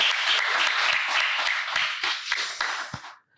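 An audience at a women-in-tech career event breaks into dense applause, with many hands clapping together before the sound thins out and stops.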